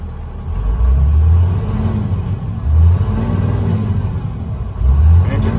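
A 2005 International 7400 truck with a DT530 diesel engine runs with a deep, loud rumble, surging in three distinct revs over a steady low idle.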